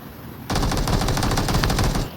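Automatic gunfire in the mobile game PUBG Mobile, a rapid, loud burst of evenly spaced shots that starts abruptly and runs for about a second and a half over background game noise.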